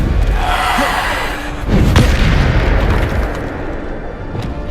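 A Bombarda explosion spell in Hogwarts Legacy lands as a heavy, booming blast with a low rumble that swells midway and fades, over continuous game sound.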